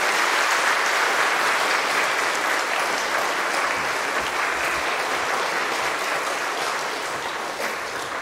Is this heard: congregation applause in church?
yes